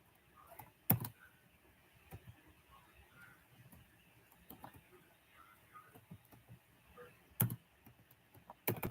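A computer keyboard is typed on quietly as a password goes in, with soft irregular key taps and a few louder clacks in a calm room.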